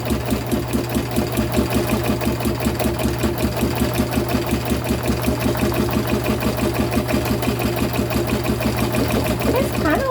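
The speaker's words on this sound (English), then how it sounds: "It's kind of like drawing with a sewing machine." A free-motion sewing machine runs steadily, its rapid rhythmic stitching chatter and motor hum continuing without pause for the whole stretch.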